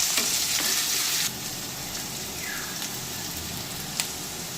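Onions, green chillies and ginger garlic paste sizzle steadily in hot oil in a pan while being stirred, a continuous frying hiss with brief scraping stirs, louder in the first second then settling, a small clink near the end.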